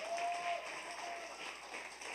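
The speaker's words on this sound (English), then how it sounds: "let's give him a big round of applause for helping bring this night together" Sustained applause from an awards ceremony audience, a dense steady patter of clapping filling the whole stretch, with a few voices mixed in.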